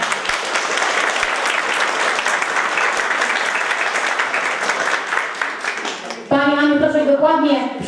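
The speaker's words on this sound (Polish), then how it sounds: "Wielkie brawa dla pani oczywiście." An audience at the opening of a folk exhibition in Leśna Podlaska claps in a dense, sustained burst for about six seconds. The applause then stops abruptly and a voice begins speaking.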